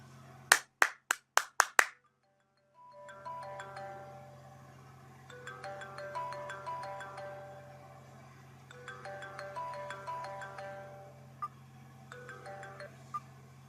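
Six sharp, close hand claps in quick succession trigger a mobile phone's clap-to-find app, which after a short silence plays a repeating, faint melodic ringtone in several phrases.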